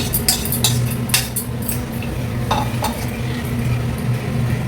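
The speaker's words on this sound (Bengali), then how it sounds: "ফুটে যাচ্ছে আদাটা।" Ginger sizzles and bubbles in a hot pan while the cook stirs, with sharp metallic clinks of a spoon against the pan standing out over a steady frying hiss.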